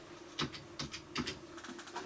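A password goes in on a computer keyboard as a few soft, quiet keystrokes, tapped in small uneven clusters close by.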